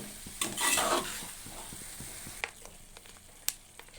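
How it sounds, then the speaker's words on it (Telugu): A spoon stirs prawn and drumstick curry in a pan, scraping and clinking in short bursts over a soft sizzle, with a louder stretch early on and a few sharp taps later. "ఇప్పుడు ఒకసారి కలుపుకోవాలి"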